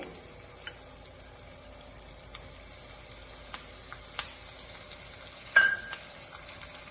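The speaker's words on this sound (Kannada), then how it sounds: "ಕರಿಬೇವಿನ ಸೊಪ್ಪು ಹಾಕ್ತಾ ಇದ್ದೀನಿ." Curry leaves, dried and green chillies and ginger sizzle in hot oil for lemon rice, a faint, steady frying hiss broken by occasional sharp crackles and pops, with no speech.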